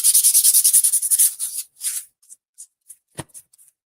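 Wooden Christmas cutout ornaments are hand sanded with quick, brisk rubbing strokes in a steady rhythm, close and fairly loud, then easing into a few lighter, sparse swipes and a soft tap.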